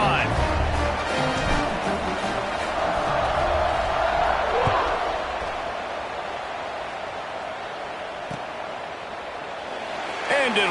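Steady stadium crowd roar fills a televised NCAA college football video game during a kickoff, broad and continuous, with an announcer talking over it and the noise easing slightly toward the end.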